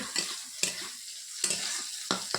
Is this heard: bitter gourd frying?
yes